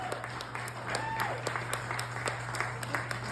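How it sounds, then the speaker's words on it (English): Audience applause at a blues awards ceremony honoring a legacy award winner, sustained crowd clapping with scattered voices and a faint whistle, heard over a steady low hum. "Give him a round of applause."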